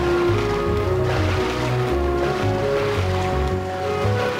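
Water sloshing and splashing in the Kingdom Hearts video game as a character swims, layered over steady game music at close, even loudness.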